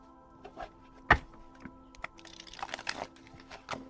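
Soft clicks and flicking taps of tarot cards being shuffled, a sharp snap near the start, then a quick rapid patter of riffling.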